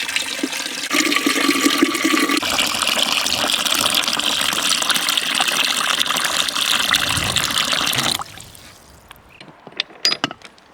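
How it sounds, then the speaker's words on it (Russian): Cold water gushes steadily into a metal cauldron holding jars of home-canned mackerel. The pour is loud and continuous for about eight seconds, then stops, leaving a few faint clinks and drips. "Залью вот этот казан холодной водой, чтобы баночки полностью погрузились."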